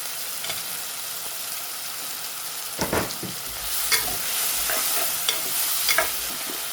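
Curry leaves and tomato tempering in hot oil, a steady crackling sizzle broken by louder bursts of spattering and stirring scrapes, close up with no talking.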